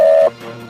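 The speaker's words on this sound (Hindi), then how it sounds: "रिया जल्दी से राहुल को फोन लगाने लगती है।" A telephone being dialed gives one short, steady electronic beep that stops abruptly, followed by faint low background hum.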